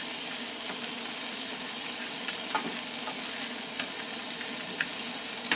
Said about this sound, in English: It's more like just the butter melting on the corn